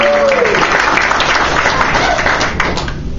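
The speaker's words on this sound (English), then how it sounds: "Let's have a big round of applause for Stu McAllister and Dr. Grins." A comedy club audience at Dr. Grins applauds for comedians, a dense wash of many hands clapping, loud and sustained, with crowd noise mixed in and fading slightly at the end.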